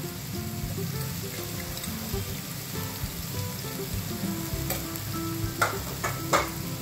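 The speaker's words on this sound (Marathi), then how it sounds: "आता हे छान परतून घ्यायचं आहे तेलामध्ये।" Potatoes and peas with spices sizzle steadily in hot oil in a pan, a constant close frying hiss broken near the end by a few sharp scrapes and clacks of a stirring spoon.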